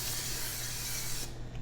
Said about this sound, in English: And then we're going to spray it a little bit.